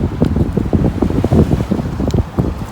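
Wind gusts roar and buffet the microphone outdoors in cold, rainy January weather at about two degrees, a steady loud rumble with no talking.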